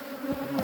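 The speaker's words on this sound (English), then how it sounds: "nurse bees, a lot of worker bees at that" Honey bees at a hive being split into a new box hum in a steady, close buzz, a brief continuous drone with slight wavering in pitch.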